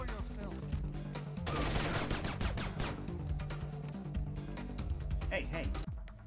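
Shotgun blasts ring out in the Splinter Cell video game, a few sharp, booming shots scattered among other game noise while a person talks over them.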